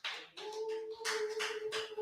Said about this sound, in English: Now, with the clapping ovation, let's welcome our speaker, Mr. MJ Success.